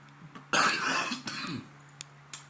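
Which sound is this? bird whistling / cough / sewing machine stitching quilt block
cough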